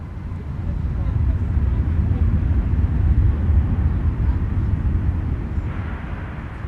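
Boeing 757 airliner arriving at MSP airport, a steady loud low engine roar and rushing rumble sustained throughout, swelling slightly in the middle, with no talking.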